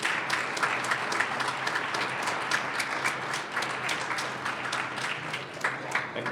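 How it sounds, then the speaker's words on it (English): Audience at a Veterans Day breakfast applauding, a sustained moderately loud round of clapping with individual claps standing out, no speech over it. "let's give them a round of applause"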